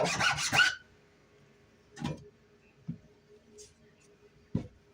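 Filing the bottom of an acorn cap to make a small bowl sit flat: a short burst of rasping strokes at the start, then a few isolated scrapes and taps, close and fairly quiet.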